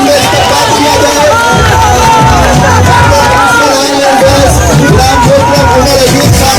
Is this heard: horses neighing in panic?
no